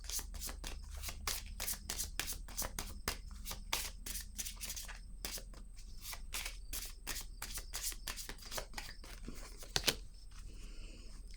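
Tarot cards handled and laid out on a table, with quick crisp slides, flicks and soft snaps of card stock coming in irregular bursts, close and quiet with no talk.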